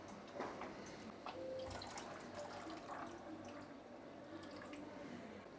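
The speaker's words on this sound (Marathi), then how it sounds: "एकजीव झाल्याच्या नंतर आपण यामध्ये ना पाणी घालूया रस्यासाठी।" Water is poured into a pan of pea masala to make misal gravy, a faint steady splashing and running-water sound heard close up without speech.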